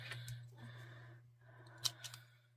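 Scissors cutting crochet yarn: a few faint, quick snips and clicks in a quiet room, with soft handling noise between them.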